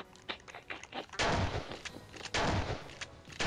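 Gunfire in a Garry's Mod Prop Hunt match, a rapid series of fairly faint shots with heavier, thumping bursts around the middle and near the end, spaced irregularly.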